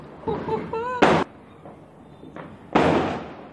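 Loud firecracker bangs go off twice during Kali Puja, sharp and close, with a brief voice and a faint pop between them.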